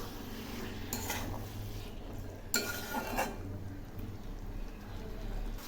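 Boiled chickpeas are stirred into ghugni masala in a pan: a few spoon scrapes and clinks against metal over a low steady background, quiet and close.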